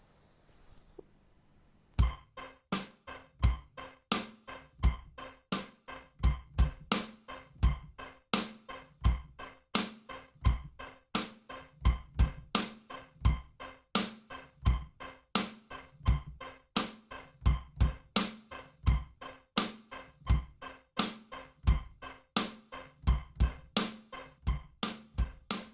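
Kick and snare drums playing the verse groove of Blinding Lights alone, a steady driving pattern of punchy hits repeating for about twenty-five seconds after a short quiet start.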